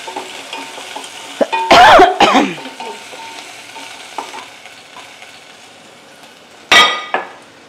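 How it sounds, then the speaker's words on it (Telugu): Pounded bottle gourd chutney drops into a hot pan with a loud burst of sizzling and stirring clatter, fading quickly, then a second sharp sizzling burst near the end over faint kitchen background. "పచ్చడి వేస్తున్నానండి"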